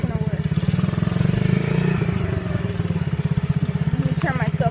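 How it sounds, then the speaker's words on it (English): A dirt bike engine in first gear chugs in a steady, pulsing rhythm close by, with a brief mechanical clatter near the end. "put this into gear and I'll have to ride around with one hand like a boss"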